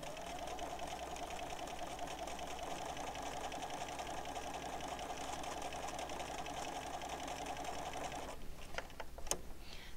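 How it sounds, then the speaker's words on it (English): A sewing machine stitches a straight seam on a sample at zero stitch width, humming in a steady, continuous whir close by before stopping, followed by a few small clicks. "Sew the entire length of your seam"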